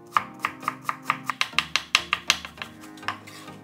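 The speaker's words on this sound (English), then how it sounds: "Chop the sliced carrots finely." Knife chopping sliced carrots finely on a cutting board for kimchi omurice, a steady run of close, crisp taps, about a dozen even strikes, alone with no voice.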